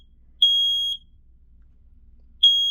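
A smoke alarm sounds during a smoke test with two loud, shrill electronic beeps, each about half a second long and two seconds apart, over near silence.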